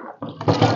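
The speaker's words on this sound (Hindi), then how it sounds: "डाल दो पानी भाई" Water pours into a cooking pot for boiling macaroni, a short splashing gush that starts thin and grows louder and fuller within a second.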